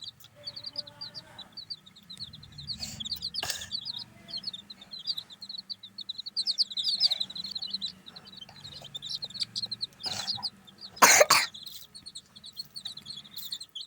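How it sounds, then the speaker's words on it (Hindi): Soft clucks and small chirps from chickens and chicks drinking water come and go in a quiet outdoor setting, with a few brief louder knocks in between; no one speaks. "मुर्गियों को पानी पिला देंगे, सारी मुर्गियाँ पानी पी रही हैं"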